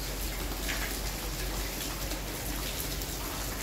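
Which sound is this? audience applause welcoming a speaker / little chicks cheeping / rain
rain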